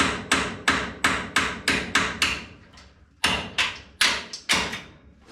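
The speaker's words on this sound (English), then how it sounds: "If in doubt, hammer it out." A series of sharp hammer taps on a T-bucket hot rod fitted with a 350 small-block Chevy and Powerglide, about a dozen, struck in a quick steady rhythm with a brief pause midway, then a few more blows.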